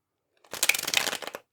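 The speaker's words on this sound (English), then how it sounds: "Okay, so let's shuffle your cards." Tarot and Lenormand cards being shuffled by hand, a quick run of dense papery riffles and slaps lasting about a second, close and fairly quiet, with no talking.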